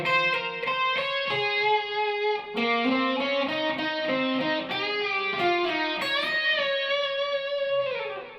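Second harmony line of the guitar solo from Airplay's "It Will Be Alright," played on a distorted electric guitar with trailing delay; a continuous stream of picked notes and bends rings loud and close, with no voices.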